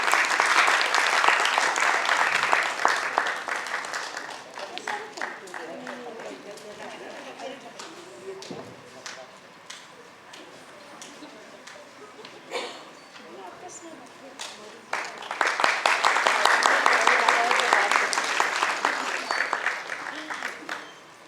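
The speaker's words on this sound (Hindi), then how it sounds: "जोरदार तालियों से आप भी स्वागत करिएगा।" Loud audience applause welcoming an honoree at a Shakuntalam ballet performance, swelling at the start, thinning to scattered claps under talk in the middle, then rising again strongly near the end.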